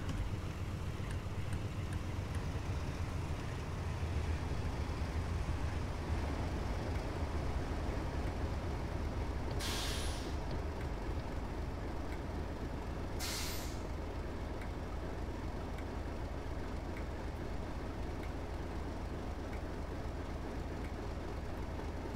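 A Class 58 locomotive hauling HAA wagons brakes to a stop in Train Simulator 2021, giving a steady loud rumble with two sharp hissing bursts of air brake release partway through; no one talks.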